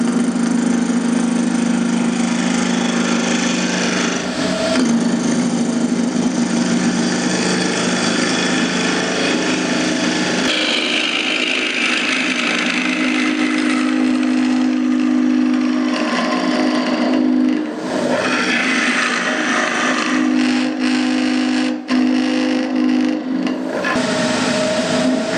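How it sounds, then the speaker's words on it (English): Wood lathe spinning a bowl blank while it is trued up, a steady motor drone with scraping and rasping of the tool against the wood shifting in tone over about twenty-five seconds, close and continuous. "So off to the lathe to get this trued up."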